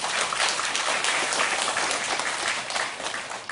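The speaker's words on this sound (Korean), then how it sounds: "영광의 박수 한번 주십시오." A church congregation applauds in a brief, dense burst of clapping that fills the room and fades slightly toward the end.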